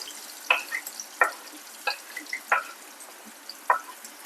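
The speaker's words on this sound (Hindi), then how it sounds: "अब यहाँ पर हम प्याज का गोल्डन कलर करेंगे" Finely chopped onions and green chilli fry in a pan under a low hiss, punctuated by five or six sharp spatula scrapes and clinks at a steady stirring rhythm, with no voices.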